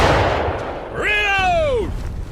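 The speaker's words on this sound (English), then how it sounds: "Form a line, boys! Aim! Fire!" In the American Civil War shooter War of Rights, a musket volley cracks loudly, its blast trailing into a long rolling echo that fades over about a second, with no voices.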